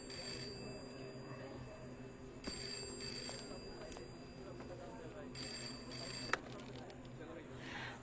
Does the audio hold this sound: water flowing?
no